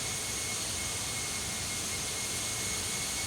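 Steady, loud roar of ToLiss A321 jet engines in a flight simulator game, a continuous broadband whine and rumble with a faint high tone, unchanging throughout.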